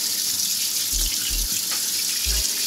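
Faucet water running over a freshly cleaned trout at a sink, a steady loud splashing rush with a few deeper thumps as the fish shifts under the stream, no voices.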